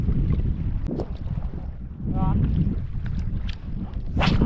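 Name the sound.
wind while fishing outdoors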